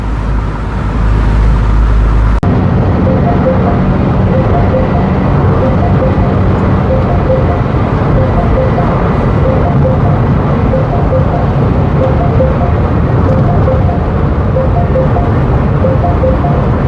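A Mini Cooper's engine and exhaust drone steadily and loudly while driving, a continuous rumble with road noise underneath.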